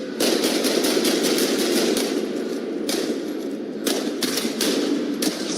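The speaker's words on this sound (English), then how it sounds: "Aiden watched from the shadows as Samuel and the other men exchanged fire." Gunfire in a narrated crime drama: sustained rapid automatic bursts, loud and close, an exchange of shots between men in a street beside a parked car, crackling on for several seconds with brief pauses.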